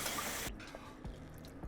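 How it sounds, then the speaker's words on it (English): Water poured into a pot of oxtail to make broth: a broad rushing pour for about half a second that stops abruptly, followed by faint low knocks and quiet room tone. "Then we're going to go straight in with water."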